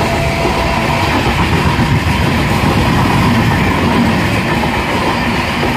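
The Howrah Puri Super Fast Express, train 12837, rolls along loudly with a continuous heavy rumble, wheel clatter and faint squeal, heard up close from on board.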